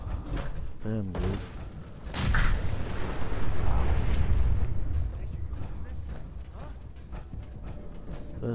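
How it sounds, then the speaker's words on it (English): Deep booming explosions in Fallout 4 rumble and roll, a sharp blast followed by a sustained low roar that slowly fades, with crackling debris mixed in. "Explosions."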